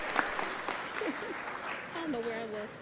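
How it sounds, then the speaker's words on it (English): Applause from an audience at a My Brothers Keeper opening ceremony in Buffalo, honoring the McKinley High School Color Guard: steady, moderately soft clapping with a few voices calling out over it. "Let's give another round of applause for the McKinley High School Color Guard."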